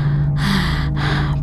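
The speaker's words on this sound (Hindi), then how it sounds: "दूसरी तरफ सिर्फ सांसों की आवाज़ें आ रही थीं" Heavy breaths come over an old telephone line: two long, loud breathing gusts close to the mouthpiece over a steady low electrical hum.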